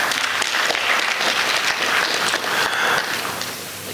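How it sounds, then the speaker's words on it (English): Graduation crowd applauding at an induction ceremony, a steady dense wash of clapping that holds for several seconds and thins slightly near the end, without any speech. "If that's how weakly you, the graduating class, clap for yourselves, then we might have to reconsider this ceremony"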